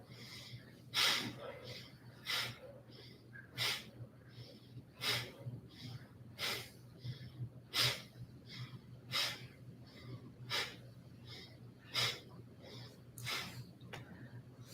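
Rhythmic deep breaths during a yoga breathing exercise, with forceful, evenly spaced puffs close to the microphone, roughly one per second, over a low steady hum.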